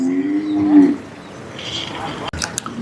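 A bull at a Tamil village bull-taming event gives one long, loud, low moo close by, followed by crowd noise and a sharp knock.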